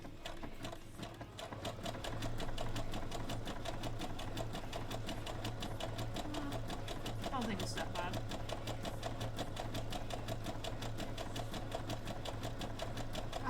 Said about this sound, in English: I haven't got a fancy sewing machine